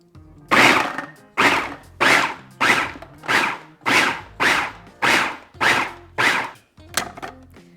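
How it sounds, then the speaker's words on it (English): Food processor pulsing avocado pesto ingredients in nine short, even bursts, each a loud whirring chop separated by brief silences, the last pulse shorter and choppier. "you just want to pulse your food processor just until all the ingredients are combined"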